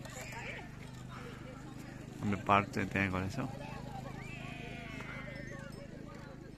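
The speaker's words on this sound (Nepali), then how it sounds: "त्यहाँ घोडा पनि रहेछ" Horse at a hilltop viewpoint at Kahu Dada in Pokhara, a loud whinny rising briefly in the middle over steady outdoor background noise, with a person talking nearby.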